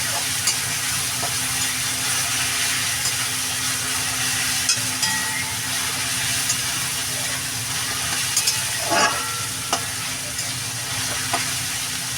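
Onion and tomato fry steadily in a pan with a Bengali fish curry (katla) in progress, a continuous moderate sizzle and hiss broken by occasional stirring scrapes, with no talking.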